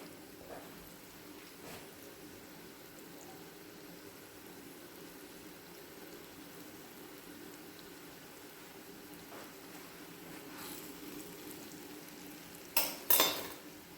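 Chard dolma balls frying in a small amount of oil in a pan: a steady, quiet sizzle runs throughout, with a few sharp utensil clinks near the end.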